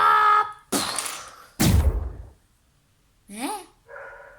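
A dog barks in short loud bursts, close up, with gaps of silence and a higher yelping sound near the end; the barks sound stylized, as in an animated scene.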